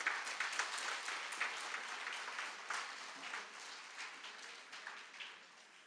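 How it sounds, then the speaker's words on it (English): Sustained audience applause fills a hall at an alumni congress gathering, dense and steady, with the clatter thinning gradually toward the end. "Give a thunderous applause to her."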